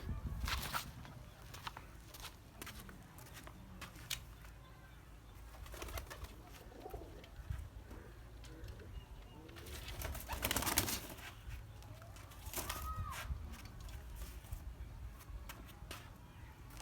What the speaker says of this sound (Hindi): तो ये ऐसा कबूतर है।